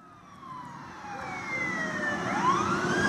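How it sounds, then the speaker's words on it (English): Wailing emergency vehicle sirens rise and sweep in pitch as they pass, growing louder over a low rumble of road traffic. "Mid-morning, we heard sirens. Emergency vehicles go by."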